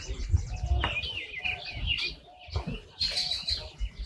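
Small sparrow calls, a white-crowned sparrow perched on a horizontal tree branch during a Big Sit birding count, giving several thin high chirps and short song phrases at moderate distance over low outdoor rumble.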